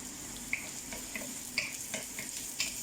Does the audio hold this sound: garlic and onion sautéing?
yes